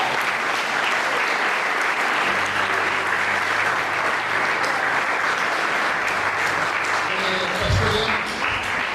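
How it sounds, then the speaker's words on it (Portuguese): A church congregation gives loud, sustained applause during a worship service, with dense clapping continuing for the whole stretch and faint voices mixed into the crowd. "E as palmas são para Jesus"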